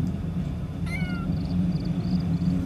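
Cat meowing in the video game The Sims 3: one short, fairly clear meow partway through over a steady low background hum, followed by faint repeated chirps and no talking.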